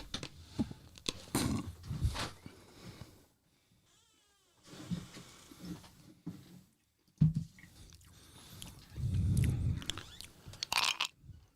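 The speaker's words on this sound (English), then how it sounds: "And one just like you're chewing and all of that goes right into the microphone" Ice from whiskey cups is chewed close to a microphone, making loud, irregular crunches and grinding bites in bursts, separated by brief quiet gaps, with no speech.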